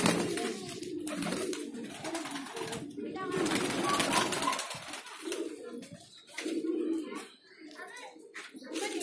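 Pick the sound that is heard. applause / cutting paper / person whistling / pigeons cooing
pigeons cooing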